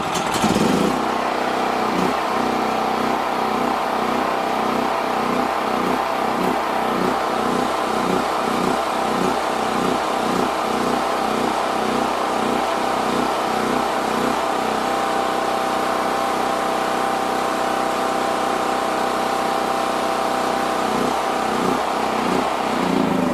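Champion portable generator running without load, its small engine droning steadily close by with a rhythmic surging pulse that rises and falls roughly every second.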